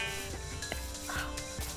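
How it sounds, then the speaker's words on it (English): Sheep bleating in the Minecraft video game, a short game-sound bleat over steady background music with a few brief sound effects, fairly quiet throughout. "Two sheeps."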